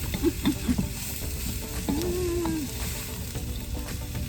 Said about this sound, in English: we're going to get all this sauteed together